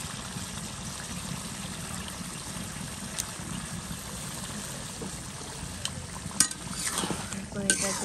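Meat goes into a pan of fried spice masala that has begun releasing its oil, giving a faint, steady sizzle with soft stirring and scraping sounds near the end.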